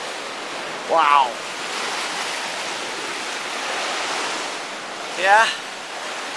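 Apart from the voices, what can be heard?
waves crashing against boulders on Lake Superior shore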